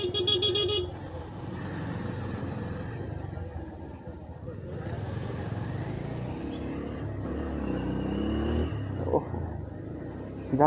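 Busy evening traffic on a narrow village street in Diphu, Karbi Anglong, with car engines rumbling and revving close by and a horn tooting briefly at the start, while people talk in the background.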